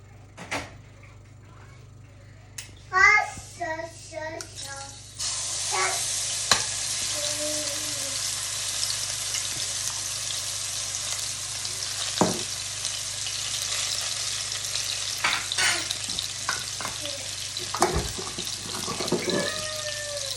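Garlic sizzling in a pan as a squid dish fries, a steady broadband hiss running throughout, with a few brief clanks and a stir near the start.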